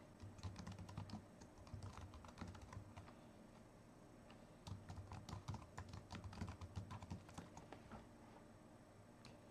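Typing on a computer keyboard while entering a date into a spreadsheet cell, a close, busy patter of rapid key clicks in irregular bursts with a short lull midway, no voices.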